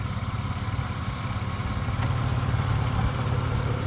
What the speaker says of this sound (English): The motor sounds like it's doing what it's supposed to be doing